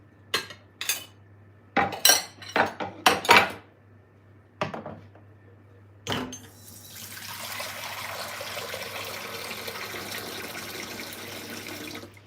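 Cold water runs steadily from a kitchen tap into a jug at a pastry station, a broad continuous rush lasting several seconds after a few sharp clinks and knocks of utensils and dishes.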